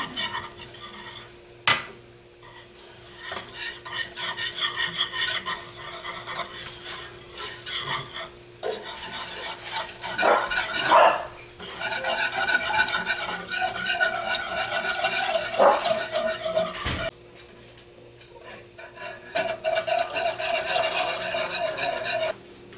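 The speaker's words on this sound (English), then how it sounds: "my butter is melted, so I'm going to whisk in 3 tablespoons flour" Flour is whisked into melted butter in a pot for potato soup. Metal scrapes and taps go on for a long stretch of busy stirring, with soft sizzling underneath and a few brief pauses. There is no talking.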